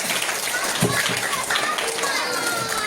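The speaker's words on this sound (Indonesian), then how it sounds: "Tepuk tangan untuk kita semua." Schoolchildren at an Isra Mi'raj religious talk in an elementary school clap their hands together, a busy rapid patter mixed with children's voices and chatter throughout.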